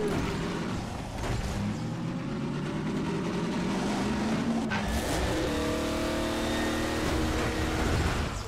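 A car engine drones steadily in Half-Life 2: Episode Two, the motor whining and shifting pitch as the vehicle drives and revs through turns, loud and continuous throughout.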